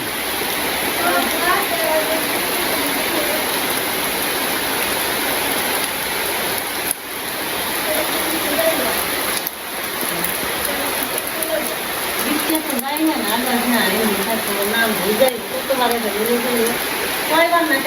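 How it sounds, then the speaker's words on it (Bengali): Light, steady drizzle falls during a rainy village day, producing a continuous soft wash of rain noise across the whole stretch, with voices talking faintly underneath. "মুসলধারে বৃষ্টি তা না, নীরবে আর কি টেবানি টেবানি ঝিরি ঝিরি বৃষ্টি"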